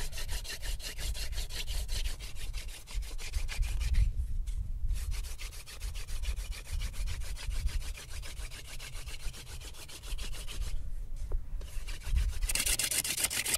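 Wooden spindle of a friction fire drill rubbing steadily against a hearth board, a dense rhythmic scraping that runs on with two short pauses where the stroking stops.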